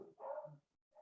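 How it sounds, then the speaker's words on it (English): Dogs barking indoors in two short bursts, a louder yelping bark followed by a pause and a brief fainter bark, heard alone without talk. "sorry about my dogs."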